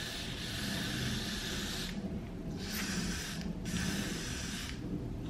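Hissing spray bursts from an aerosol can onto a lace closure wig, a long one followed by two shorter ones, close up over a low background rumble.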